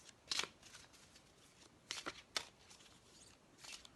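Shaman native tarot cards are shuffled by hand in a few quick, crisp riffling bursts, close and fairly quiet, separated by short pauses in an otherwise still room.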